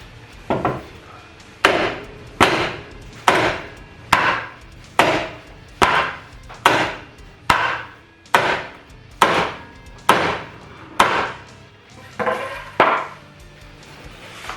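A Datsun wheel bearing is tapped into place with a hammer, about a dozen loud, evenly spaced metallic knocks at a steady rhythm, each ringing briefly before the next strike.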